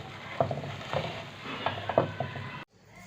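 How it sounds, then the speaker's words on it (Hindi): Breadcrumb-coated chicken and cabbage sandwiches frying in oil, a soft close sizzle with several light scraping knocks of a utensil before cutting off abruptly near the end. "चारों तरफ हम अच्छी तरह ब्रेड क्रम्स लगा देंगे, उसको फ्राई कर देंगे।"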